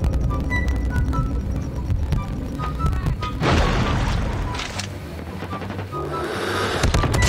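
Shotgun blasts and other gunfire from a video game boom and crash in quick succession, loud and dense, with a faint voice briefly underneath.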